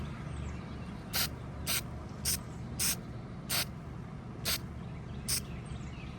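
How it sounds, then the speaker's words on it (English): Nitrocellulose lacquer hisses from a spray can onto a guitar in seven short, evenly spaced bursts, each about half a second, close and clear over a low steady room hum. "Notice each time I'm rotating the guitar and I'm spraying it from a different angle."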